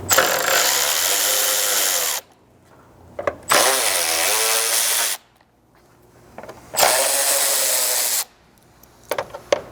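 A power tool drives out Torx head screws from the front of a Chevy Colorado Z71 / Trail Boss, three loud sustained whirring bursts of about two seconds each, separated by pauses with small clicks.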